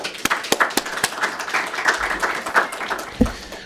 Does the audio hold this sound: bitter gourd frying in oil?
no